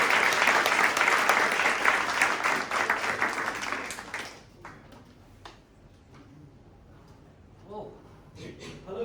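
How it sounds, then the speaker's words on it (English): An audience at a client project showcase applauds the presenters with a dense, steady burst of clapping that fades after about four seconds, leaving scattered claps and quiet room noise. "please, a round of applause"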